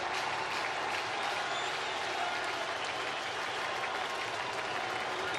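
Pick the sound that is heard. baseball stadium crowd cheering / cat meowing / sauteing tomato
baseball stadium crowd cheering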